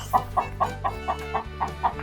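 Steady, rhythmic clucking from a chicken repeats about eight times in quick succession, close and fairly loud with no talking.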